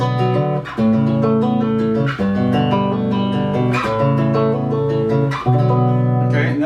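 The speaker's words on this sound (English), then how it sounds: "Okay, and that's with the bass pickup." Full, deep chords strummed on a Squier Bass VI six-string bass through the bass pickup, each ringing out and then changing to the next in a slow progression, with no talking.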